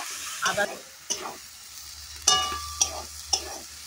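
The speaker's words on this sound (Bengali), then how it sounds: "দিয়ে ভালোভাবে আদাটাকে কষিয়ে নেব।" Ginger paste sautéing in oil in a pan, with a quiet sizzle broken by several sharp scrapes and clinks of a spoon stirring against the pan, no voices.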